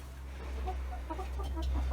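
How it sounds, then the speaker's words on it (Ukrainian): A rooster sits nearby giving soft, short clucks in an irregular run over a steady low farmyard hum, fairly quiet overall. "Ось він сидить, наш півун."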